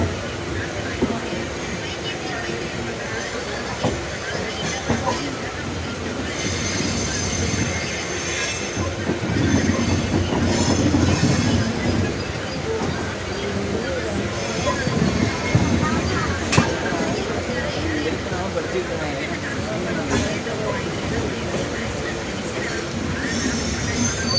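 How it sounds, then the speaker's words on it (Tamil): The Pallavan superfast express train rolls steadily into Villupuram railway station with rumbling wheels, metallic clatter and occasional squeals, while people talk in the background. "நமது ரயில் வண்டி விழுப்புரம் ரயில் நிலையத்துக்குள்ளே என்ட்ரு ஆகிடுச்சு பாருங்கள்."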